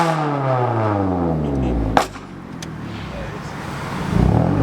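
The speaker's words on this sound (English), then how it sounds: "Nice little rev battle with a 350Z back there" A Nissan Altima revs in a rev battle with a 350Z, the engine note sweeping up and down in a loud, close drone before a sharp pop and a drop to a lower rumble.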